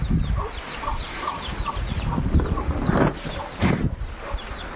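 Chickens cluck in short, repeated bursts close by, several birds chattering over a rumbling, uneven background.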